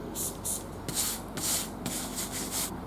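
Roof shingles being scrubbed with Soft Scrub cleanser: repeated rough scouring strokes, about eight bursts in three seconds, close and fairly loud with no talk.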